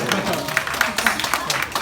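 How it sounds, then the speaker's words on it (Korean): A youth worship congregation claps in a quick, steady beat of sharp hand strikes, close and moderately loud, with voices talking over it throughout. "우리 박수 한번 쳐주세요."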